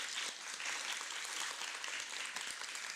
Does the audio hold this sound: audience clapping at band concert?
yes